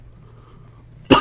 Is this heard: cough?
yes